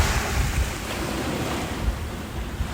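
Ocean waves washing onto a shore at night, a continuous rushing surf with soft crashing swells and some wind noise, steady and fairly close with no voices.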